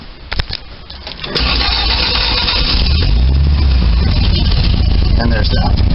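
A 1967 Sunbeam Alpine engine, left with no voltage to the coil, cranks loud and close without firing. The steady grinding churn runs for several seconds after a brief lead-in of clicks.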